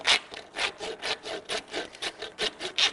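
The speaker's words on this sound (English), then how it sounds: "keep sawing inferiorly until you feel the cutting edge of the saw just break through the hard palate and the bone" A hand saw cuts through skull bone during an anatomical dissection of the head, about a dozen rapid, rhythmic rasping strokes, close and clear with no talk.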